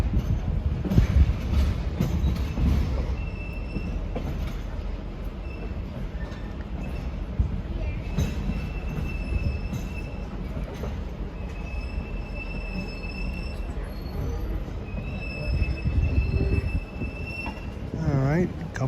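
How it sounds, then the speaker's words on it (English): A train pulled by EMD F7 diesel locomotives rolls along with a heavy, continuous rumble and occasional high wheel squeals, the locomotive engines working under the noise. "you got to hear those F7s work"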